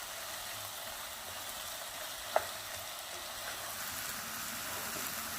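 Shrimp sautéing in a hot pan for tacos gobernador gives off a steady, even sizzle that holds for the whole stretch, with one sharp click partway through.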